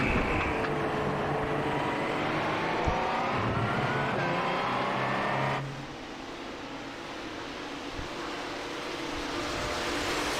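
LMP1 prototype race cars at Le Mans in the iRacing game roar past in a dense pack, their high engine whine swelling, then dropping abruptly into a lower, more distant rumble.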